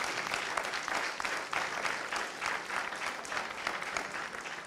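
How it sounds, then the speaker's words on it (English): Steady audience applause fills the room at a fairly low level, dense and continuous clapping from a crowd with no talking over it. "I think we need to give them a big round of applause."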